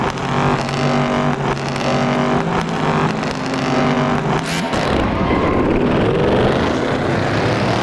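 An American muscle car engine in a video game, revving loud and rising through a run of throttle bursts, then cutting to a rougher, grittier roar.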